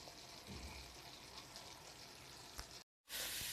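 Chicken liver sizzling as it fries in a pan, a steady hissing, crackling fry that runs quietly and continuously, cuts out briefly, then returns in a brighter, louder burst.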